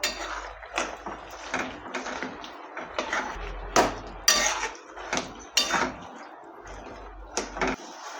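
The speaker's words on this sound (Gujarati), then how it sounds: "આ રીતના બબલ્સ આવે એટલે આપણે મેશ કરેલા બટાકાને એડ કરીશું હવે આપણે એને મિક્સ કરી લઈશું" A spoon scrapes and knocks against a pan while mashed potatoes are stirred into dabeli masala for Kutchi dabeli. Irregular clanks and scrapes sound up close, with short quiet gaps between them.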